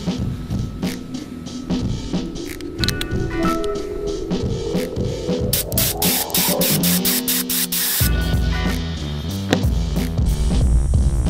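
Parts of an old 60-year-old motor are sandblasted, giving a loud, continuous hissing spray that runs steadily with shifting tone, broken by brief pauses and clicks, up close with no talking.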